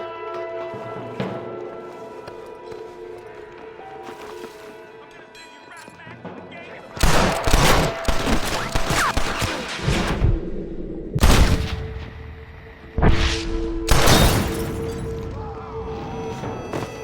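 Gunfire in the western game Red Dead Redemption: after a stretch of quieter ambience, sharp loud shots and bursts go off close by with clatter and impacts, some shots coming singly and others in clusters, and voices are heard among them.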